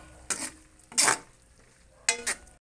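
Sardines with egg and tomatoes being stirred in a pan, with three short scraping, sizzling bursts of the utensil separated by quieter pauses, close and clear with no talking.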